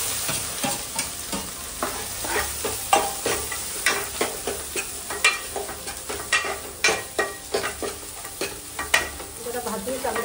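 Masala paste with turmeric stirred and fried in a pan for a crab curry, a steady sizzle broken by repeated scraping strokes of the spoon, close and continuous with no talking.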